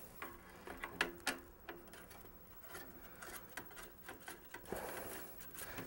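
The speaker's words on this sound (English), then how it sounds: "So I have a regular old Phillips head screwdriver. I'm going to go around and just unscrew it." A Phillips head screwdriver unscrews the retaining screws of a computer processor fan, giving faint, close ticking and ratcheting clicks in an irregular series.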